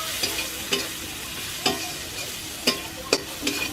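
Ground spices, cumin, coriander, turmeric and chilli powder, fry in a pan with a continuous close sizzle, broken by several sharp scraping stirs at irregular intervals.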